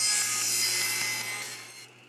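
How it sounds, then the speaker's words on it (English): A bandsaw blade cuts through a clamped wooden dowel set at a 45-degree angle, giving one steady, bright rasping whine that fades as the cut finishes. "I've got the blade set at 45 degrees, and I'm just going to find that mark"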